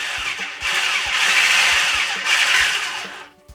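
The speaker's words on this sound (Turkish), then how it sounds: "Ve mikserimle karıştırmaya devam ediyorum." A close electric hand mixer whirs loudly and steadily, mixing soufflé batter, its pitch shifting slightly as it works, then winds down and stops at the end.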